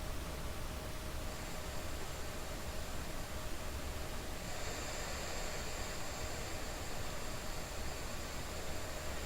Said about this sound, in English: I just got a little battery powered radio here, and we're going to grab some white noise.